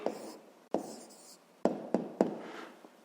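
A pen writes a maths answer by hand, with short scratchy strokes and a few sharp taps as it touches the paper, close and fairly quiet, with no talk.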